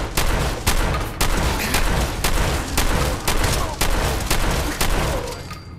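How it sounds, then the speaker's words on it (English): Mutant Slayer shotgun firing in Fallout 4, about a dozen loud, booming blasts in a steady, evenly spaced rhythm, close and dominant, with game noise in between. "Mutant Slayer shotgun"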